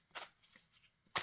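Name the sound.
laying out playing cards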